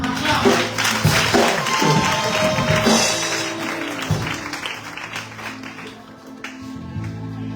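A congregation at a church crusade service applauding and clapping to acclaim Jesus, a dense, lively crowd of hand claps with rhythmic beats over low music, sustained throughout and gradually easing.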